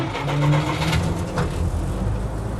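A vintage vehicle engine fires up after quick taps on the throttle, a loud, close, rough rumble that swells into a brief rev and then settles into a steady idle.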